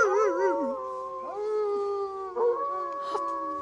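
Wolves howling in a fairy-tale forest: wavering, sliding howls that rise and fall, with overlapping voices entering one after another, moderately loud and without speech.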